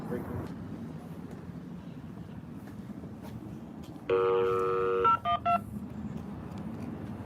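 Telephone keypad being dialed: a steady tone of about a second, then several short touch-tone beeps in quick succession, clear over faint outdoor background hiss.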